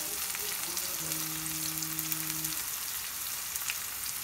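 Onions going into hot oil with spluttering cumin and mustard seeds give a steady, close sizzle, and a brief humming tone rises under it partway through.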